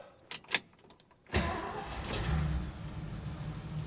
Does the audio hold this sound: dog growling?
no